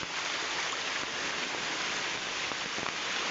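The Aghanashini river, in heavy flood after days of rain, rushes past in a continuous broad churning wash that is loud and near, with faint splashes standing out now and then.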